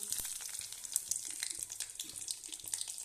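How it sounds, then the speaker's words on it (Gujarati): Cumin seeds sizzle in hot oil, a soft continuous crackling hiss with small spitting pops, faint and close throughout without any voices. "અને આપણે આ તેલ ગરમ કરવા મૂકી દીધું છે। હવે આપણે એમાં નાખીશું આ જીરું"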